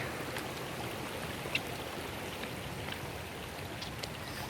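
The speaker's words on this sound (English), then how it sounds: "I just wanted to show you guys the creek." A small creek runs after rain, giving a steady, broadband rush of flowing water close by with faint splashes and drips scattered through it, and no talking.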